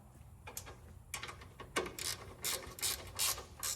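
A hand ratchet snugs nuts on a lift kit install for a 1794 Edition Toyota Tundra TRD, giving a run of quick, close clicking bursts that grow denser and louder toward the end.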